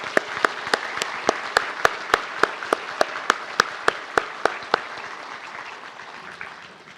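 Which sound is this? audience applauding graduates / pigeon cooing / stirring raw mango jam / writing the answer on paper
audience applauding graduates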